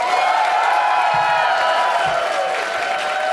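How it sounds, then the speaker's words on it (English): Live podcast show audience cheering and applauding in a college venue, a sustained roar of crowd noise, whoops and clapping that stays loud and steady, with a couple of brief low thumps. "Make some noise up in this piece for Larry Summers"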